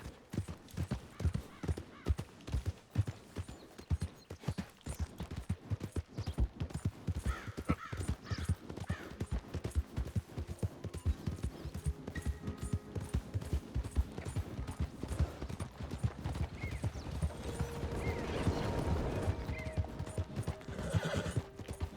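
Steady clip-clop of horse hooves throughout in Red Dead Redemption 2, with a horse whinnying partway through and crows cawing faintly in the background.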